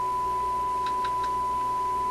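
A steady, pure electronic tone from a signal generator, played through a Grundig Type 238 W/UKW-I radio, holds at one pitch throughout, faint and unchanging, over a low hum with a few soft chirps.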